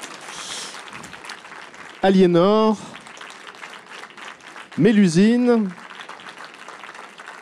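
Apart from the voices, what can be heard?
audience applauding the narrators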